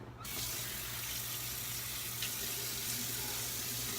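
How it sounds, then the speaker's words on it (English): A tap runs steadily while an alum block is rinsed after shaving, giving a close, continuous splashing hiss that starts abruptly and holds at an even level. "Let me go ahead and rinse this alum block off."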